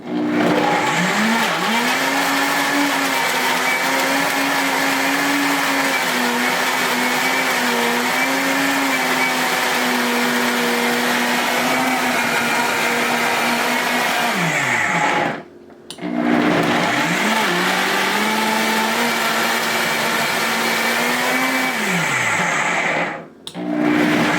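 A small blender blending a marinade whirs loudly and steadily, its motor pitch dipping briefly as it stops twice and restarts.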